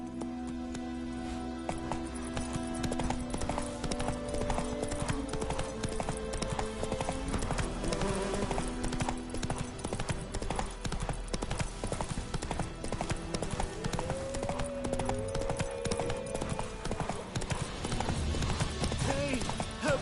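Geralt's horse Roach clip-clops at a steady trot over ground in The Witcher 3, hoofbeats close and continuous beneath game music and ambient sounds, with a brief whinny.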